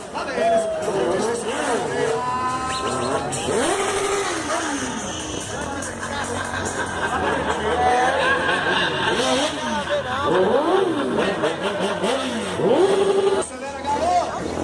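Vehicle engines rev and accelerate at a motor show event in Jequié, rising and falling whines under crowd chatter and a loud voice talking over them, with the engine noise fairly close.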